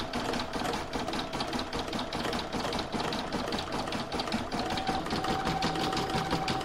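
An embroidery machine running a satin stitch around a heart on a placemat, producing a fast, steady mechanical needle chatter with a continuous motor hum throughout.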